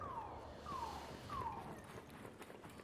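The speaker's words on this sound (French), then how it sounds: "Oh, comment ça, l'alarme elle peut marcher? T'as vu la gueule de la bagnole?" A video game car alarm: a repeating descending electronic tone sounds three times in steady succession, fairly faint over a muffled background.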